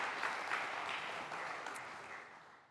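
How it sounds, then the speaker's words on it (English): Congregation applause at a Sunday service, fairly faint and distant, a steady wash of clapping that slowly fades over a few seconds with no talk over it. "let's give her a round of applause."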